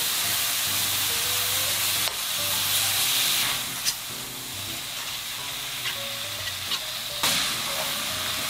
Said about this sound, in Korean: 고기가 익도록 볶아주세요